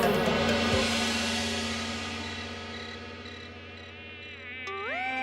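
Mosquitoes whine close by in a steady, high buzzing drone that rises and falls slightly over several seconds, with no talking.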